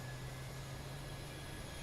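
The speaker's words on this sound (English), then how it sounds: "here comes our APU" Auxiliary power unit of a parked Boeing 737-800 airliner coming online, heard as a faint, steady droning hum with a constant low tone and a thin high whine, no voices.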